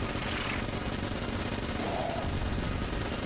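Rapid gunfire and bullets in the Enter the Gungeon video game, a dense unbroken rattle of shots that stays loud and even from start to finish, with no clear talking.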